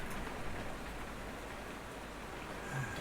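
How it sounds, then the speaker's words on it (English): Steady wind-driven rain heard from indoors outside a window, a soft continuous hiss of drops with a faint low rumble, quiet and even, with no talking. "Wind and rain. Oh, listen to that."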